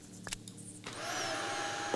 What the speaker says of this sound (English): You vacuum stuff up and then you blow it back out again.